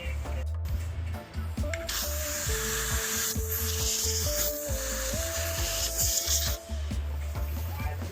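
Air is blown to clean an old STIHL edger in a workshop repair, giving a steady, close hiss that runs throughout with small rattling and scraping noises mixed in.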